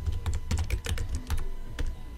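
Close computer keyboard typing, quick irregular clicks and taps in short bursts over about two seconds, loud and alone with no talk.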